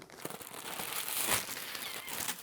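Crinkly plastic rustling and tearing, close up and continuous, as a package is pulled open.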